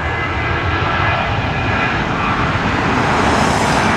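A Southwest airliner takes off from an LAX runway, producing a loud, continuous engine roar that holds steady with no one speaking.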